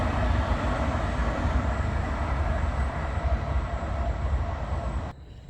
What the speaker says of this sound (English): I might try to get some train footage later on. There goes one now.